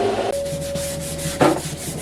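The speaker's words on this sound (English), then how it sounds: "go ahead and skim over all of this with a sanding pad. This is 220 grit." Plastic interior trim from a Silverado is rubbed with a 220 grit sanding pad, making steady close rhythmic scratchy strokes, each one loud and abrasive, with no talking.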